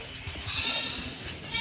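Goats bleating on a farm in a loud, rough, sustained cry that rises midway, close by with steady background noise and no clear speech.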